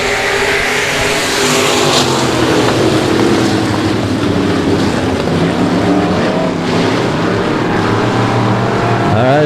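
Race car engines roaring loudly and continuously at a dirt-track qualifying night as cars launch into a drag race down the backstretch, a dense, sustained engine din.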